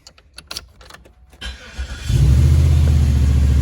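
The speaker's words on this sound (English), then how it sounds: "Make sure we can start the car." A 2001 Cadillac DeVille engine cranks briefly after some handling clicks from a new ignition switch, then catches and settles into a steady, loud idle.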